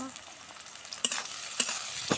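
Chopped onion frying in mustard oil with bay leaf and cinnamon, a quiet background sizzle broken by three sharp spoon scrapes and clinks against the pan as it is stirred.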